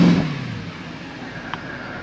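Running Mercedes AMG engine with a noisy pulley, a steady close mechanical hum and whir under a broad hiss, with a brief sharp tick partway through.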